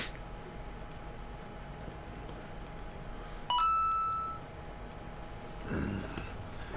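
A phone notification chimes once as a short, loud electronic tone, followed by a fainter second alert a moment later, over steady room hum during a C++ coding session.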